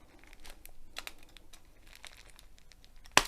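A sharp knife cuts into tight plastic packaging around an AliExpress diamond painting kit. Soft crinkling and tearing scrapes run close up, then end in one loud, sharp snap.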